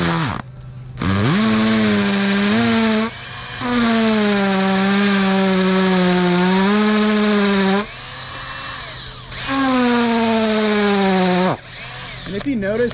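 Power drill boring with a bit into wood, metal or concrete, loud whining bursts that rise and fall in pitch, stopping and restarting several times as the bit is pulled out.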